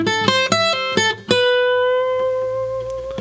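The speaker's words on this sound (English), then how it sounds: "a bend-in variation" Gypsy jazz guitar lick in A harmonic minor, a bend-in variation: several crisp picked notes in quick succession ending on a long sustained note that rings out and slowly decays, heard up close with no voices.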